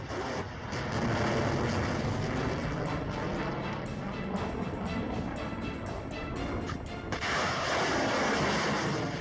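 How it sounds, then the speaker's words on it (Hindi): Russian Bastion coastal missile launches, three missiles fired, heard as a continuous loud, rushing roar that fills the whole clip with a brief dip near the end. No speech. "इसमें 3 बेस्टियो मिसाइल को फायर करते हुए देखा जा सकता है।"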